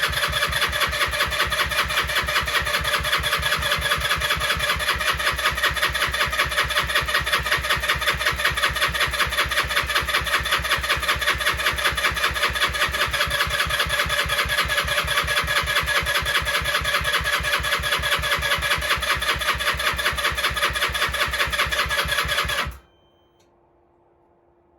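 A Lexmoto 125 motorcycle, rebuilt after a heat seizure, runs with a rapid, steady single-cylinder putter for over twenty seconds at close range, then cuts out abruptly into near silence.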